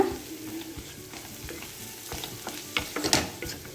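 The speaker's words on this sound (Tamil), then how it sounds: "எல்லாம் போட்டதுக்கப்புறம் நல்லா ஒரு 5 நிமிஷம் நல்லா கலக்கி விடுங்க" Peas rice frying in a pan and being stirred, with a steady close sizzle and scattered scraping clinks of the spoon, growing busier toward the end.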